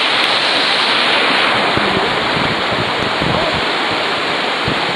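Loud, steady rushing water from a canyon waterfall and stream at Ruisseau des Champs du Poix near Coulans-sur-Lison, a close, continuous roar with no pauses and no talk.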